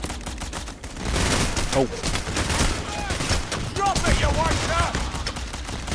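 Rapid bursts of gunfire in a video game robbery mission, a dense, continuous clatter of shots filling the scene while a player's voice briefly exclaims over the noise.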